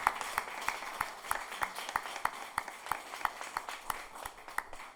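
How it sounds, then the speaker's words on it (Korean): Church congregation applauding in a Sunday worship service, a steady run of individual claps from a small crowd at moderate distance, fairly quiet and even in rhythm. "따뜻한 박수로 한번 축복하도록 할까요?"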